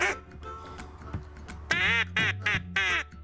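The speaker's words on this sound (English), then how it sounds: "The duck calls sound very good when you know how to blow it" A wooden duck call is blown in Louisiana: a few soft, buzzy notes, then a run of loud, nasal quacks, each one shorter than the one before.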